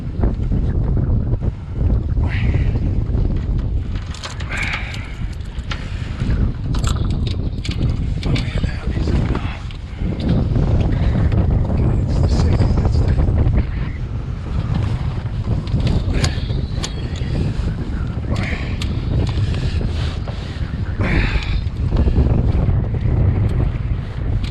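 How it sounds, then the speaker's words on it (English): Strong gusts of wind in 30-knot conditions roar continuously across a sailboat at sea off Mindelo, with heavy buffeting noise on the microphone and faint water sounds underneath. "Hopefully we don't get a big gust from the other direction now."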